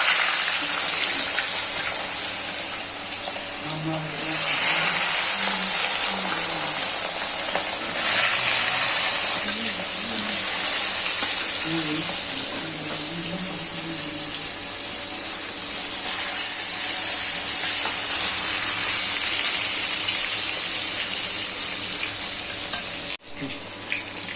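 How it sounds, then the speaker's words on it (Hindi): Katla fish fry in hot oil with a loud, steady hiss that swells and fades at times, mixed with faint bubbling and a few soft clinks nearby. "तेल गरम हो चुका है, अभी इसमें हम मछली को"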